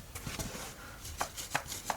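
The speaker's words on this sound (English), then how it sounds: "Is that the hat I hear rustling?" Paper slips shaken inside a hat make soft, faint rustling with a few sharper irregular taps. It is quiet and close, with no talking.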